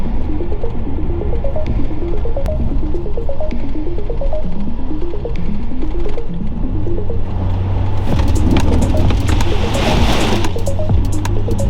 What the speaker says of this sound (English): So time to rip through these puddles and get to Birdsville